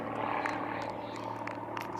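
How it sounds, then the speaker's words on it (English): A low-flying aircraft passes overhead during an outdoor T10 cricket match in Czechia, a steady broadband engine drone holding throughout at fairly even loudness, with faint crowd and field noise beneath. "Sounds like a very low airplane going overhead."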